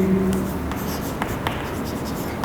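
Continuous scratchy writing on a board as a maths limit is written, sitting under steady room noise and punctuated by a few light taps of the marker.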